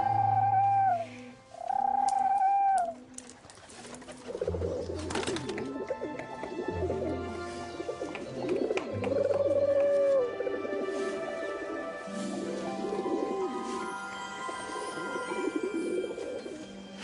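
Small birds coo in soft, rounded, repeated calls, close and fairly loud at the start, then mixing with busier chirps and rustling further on, with no voices.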